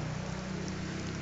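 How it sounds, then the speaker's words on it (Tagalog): Steady rain falls on a highway in Bohol, a continuous broadband hiss with low rumble underneath, constant and fairly faint throughout with no talking. "Umuulan."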